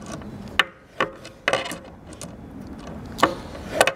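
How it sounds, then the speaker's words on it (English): Gerber Center-Drive Plus multi-tool pliers gripping a stripped screw and slowly turning it out of wood, making sharp creaks and scraping clicks at uneven intervals, close up and without speech. "take a pair of pliers and screw a screw out"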